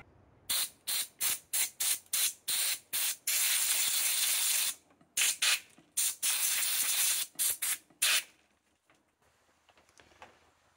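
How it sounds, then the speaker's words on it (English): An air compressor nozzle blows clean the grinder of a Gaggia Anima Deluxe espresso machine in a rapid series of loud, sharp air bursts, one longer blast among them, before the sound cuts off into near silence. "the compressor can do a really good job just cleaning it itself"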